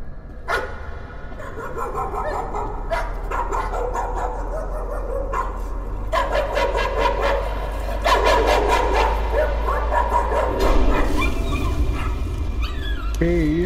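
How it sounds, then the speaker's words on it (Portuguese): Dogs bark in the horror video game Layers of Fear, with repeated yaps and bow-wows over a steady, droning game soundscape. The barks recur through the passage and a few high whines come near the end. "os cachorros estão latindo."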